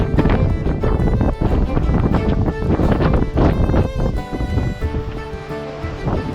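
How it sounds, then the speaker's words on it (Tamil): Strong wind blows across an open hilltop during the Aadi month, a constant loud roar with buffeting gusts pounding the microphone throughout, and no pause in the blast. "ஆனால் காற்று சரியான காற்று, ஆடி மாதம்ன்றனால காற்று பயங்கரமாக வீசுது"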